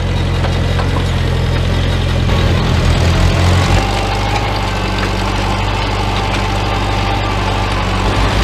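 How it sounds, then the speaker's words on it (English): A farm tractor used for potato cultivation runs with a steady low diesel rumble and knocking throughout, close and loud, shifting in pitch partway through as the throttle changes. "So I'm going to start up the tractor, and Dev will follow me"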